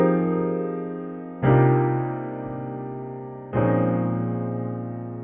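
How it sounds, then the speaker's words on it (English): Rich minor 11 chords played on a piano, two struck chords each ringing out and slowly decaying, with no other sound. "Here's another big, rich and beautiful sounding chord type called minor 11 chords."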